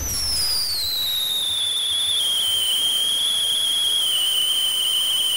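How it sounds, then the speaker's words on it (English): A loud firework whistle from a firework launcher in GTA 5, a high shrill tone sliding slowly downward over a constant hissing roar, lasting several seconds. "What does the firework launcher look like?"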